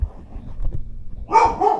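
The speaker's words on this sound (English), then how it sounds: "That's my dog. Someone's walking down his street again, and he doesn't allow that." A dog bursts into two or three loud barks near the end, answering a passerby on the street outside a workshop where a small single-ended valve guitar amp sits on the bench. Low room rumble and handling noise come before the barks.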